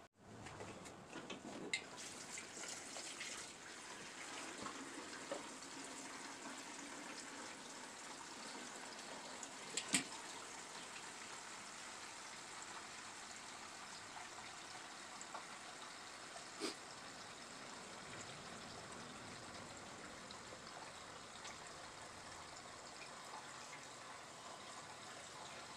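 Fuel pours steadily into the tank of a 2011 Kawasaki Ninja 250 motorcycle, a continuous soft gushing trickle that runs for the whole stretch with a few small clinks and no talking.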